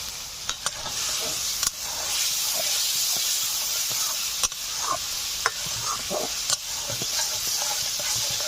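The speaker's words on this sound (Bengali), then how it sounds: "সমস্ত মশলা ভালো করে কষে নিচ্ছি।" Spice paste of ginger, tomato, salt and turmeric sautés in oil for a village crab curry, giving a steady hissing sizzle with sharp clicks and taps of stirring throughout.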